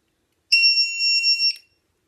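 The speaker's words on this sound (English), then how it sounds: "For the heck of it, I'm going to plug in the voltage alarm." A LiPo (lithium polymer) battery voltage alarm lets out a single sharp, high-pitched electronic beep lasting about a second, loud and close, with silence before and after.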